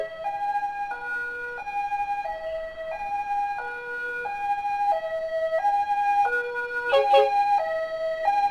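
An ambulance siren alternates between two tones in a steady hi-lo pattern, loud and close, while the ambulance carries a patient home from a hospital in Bandung, with a brief horn burst near the end.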